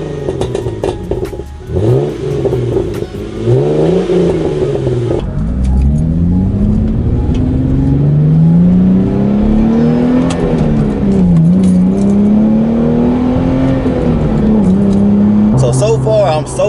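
A Hyundai Genesis Coupe with an NGM header, CNT cat-back exhaust and test pipes starts up and idles loud and close, then revs repeatedly in rising and falling sweeps, with a sustained throaty drone throughout.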